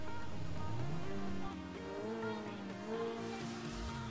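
A Ferrari F12 Berlinetta in GTA 5 drives off with a steady engine drone that rises in pitch as it accelerates, heard alone and fairly close throughout.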